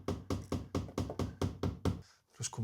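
Rapid, even series of about eight sharp knocks on a concrete mould for wall cladding tiles, struck to drive trapped air out of the wet mix. The raps are close and loud, followed by a short pause and a soft rustle.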